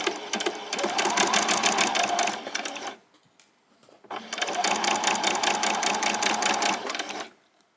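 A home sewing machine stitches summer shorts in two steady, close runs of about three seconds each, with a short quiet pause between them.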